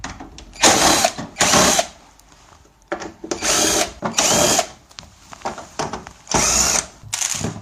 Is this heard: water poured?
no